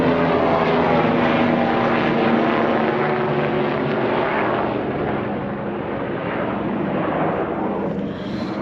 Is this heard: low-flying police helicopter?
yes